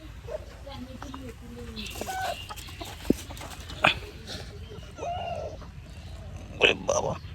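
A hen in a village home clucks and cackles while laying eggs, her calls repeating in short bursts among other bird and animal sounds, with faint voices and household noise around.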